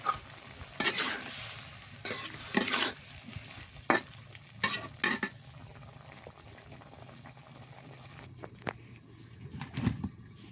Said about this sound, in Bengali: এই যে পেঁপেটা এখন একটু কষিয়ে নিব